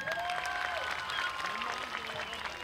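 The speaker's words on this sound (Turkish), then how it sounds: "O emekçilere de bir alkış." An audience at an event in Adana applauds steadily through the whole stretch, with some whistles and calls rising above the clapping as flowers and a plaque are presented.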